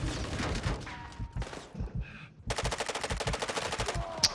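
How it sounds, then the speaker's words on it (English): Call of Duty gunfire, with dense automatic bursts and rapid shots that build into a sustained, rhythmic rattle of machine-gun fire in a busy game soundscape. "I'm taking effective fire"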